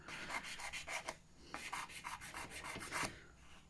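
A nail sander buffs fingernails in quick, rhythmic rubbing strokes, close and fairly quiet, with a short pause partway through.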